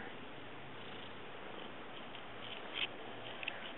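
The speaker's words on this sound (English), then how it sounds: "he's just purring right now" A cat purrs close to the microphone, a soft continuous rumbling purr heard alone, with a couple of faint small clicks near the end.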